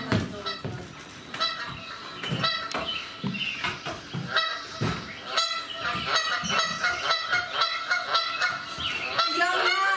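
A small flock of farmyard geese honking in rapid, overlapping bursts, close and lively, with a few squawks standing out from the steady chatter.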